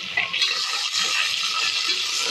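Onions sauté in a hot pan, giving off a steady close sizzle with a few scraping stirs as they soften.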